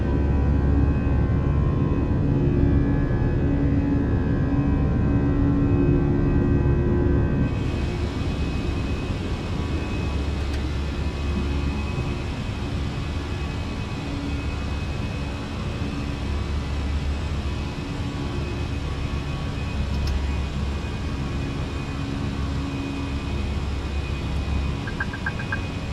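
Steady roar of an American Airlines airliner's jet engines during takeoff and climb in Microsoft Flight Simulator 2024, a loud, continuous broadband rumble that changes tone partway through and then holds constant with no talk.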